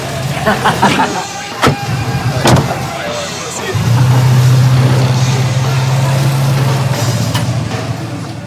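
A car starts up and pulls away nearby, its engine a steady drone that swells and holds, with a few sharp knocks and rattles early on and voices talking faintly at the start.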